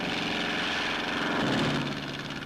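Civilian patrol planes taking off on scheduled flights, heard as a steady, loud propeller-engine drone that holds throughout with a slight swell in the middle, alone without voices.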